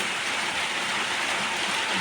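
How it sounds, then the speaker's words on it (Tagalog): Steady rain mixed with ice hisses evenly and densely, with a bright, crackling patter like hard pellets striking a surface. "May ice ang ulan."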